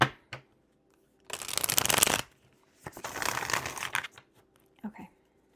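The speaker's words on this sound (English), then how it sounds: "Okay, one more shuffle, guys," A tarot deck shuffled close up in two long riffling bursts separated by a pause, with a few soft taps and card handling sounds in between.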